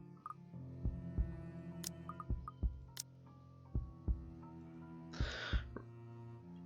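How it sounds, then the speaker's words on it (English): A dramatized heartbeat throbs in a low, slightly irregular rhythm, soft thumps spaced about a second apart over a faint hum, with a brief breathy rush partway through. "I'm still hearing a heartbeat."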